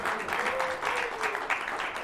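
A studio audience claps in a brief, steady burst of applause, fairly quiet and dense throughout, with no one speaking over it.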